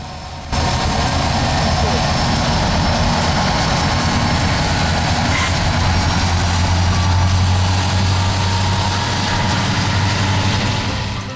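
A freight train led by an SD90MAC locomotive rolls past, giving a loud, steady rumble and drone from the engine and wagons. It holds throughout with a faint high whine above it.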